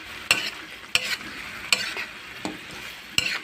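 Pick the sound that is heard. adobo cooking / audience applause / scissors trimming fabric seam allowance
adobo cooking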